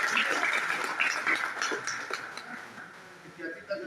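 An audience at a mechanic training session in Mansehra claps together in a steady patter of applause that starts fairly full and slowly thins out over a few seconds.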